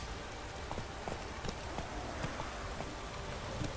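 Hooves of Geralt's horse Roach from the video game The Witcher 3 clip-clop in a quick, steady rhythm at a trot or canter, moderately close under a dense wash of ambient noise.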